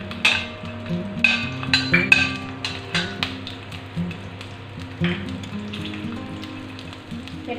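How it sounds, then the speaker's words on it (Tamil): Small and large onions sautéing in hot oil for a Tirunelveli idi sambar, giving a steady close sizzle with frequent clinks and scrapes of a stirring spoon against the pan, no talk. "வெங்காயத்தெல்லாம் எண்ணெயை ஊற்றி வதக்கிடுவோம்."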